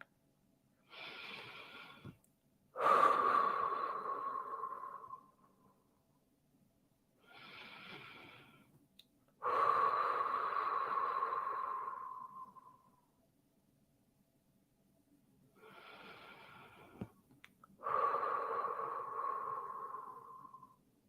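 Three slow, deep breath cycles, each a long airy inhale followed by an even longer, fuller exhale, close and otherwise silent during a calm meditation.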